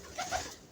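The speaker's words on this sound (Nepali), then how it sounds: "यहाँ चाहिँ हाम्रो परेवाको गुड छ" Pigeons at a coop in a rural village home give two soft, low coos in quick succession, faint and close together, in an otherwise quiet setting.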